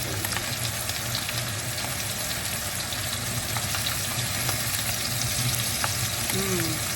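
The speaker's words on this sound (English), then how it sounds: "the butter coats the other side of the steak as well" Steak sizzles steadily in butter with garlic, a dense continuous hiss of frying that stays close and even throughout, with faint low background hum.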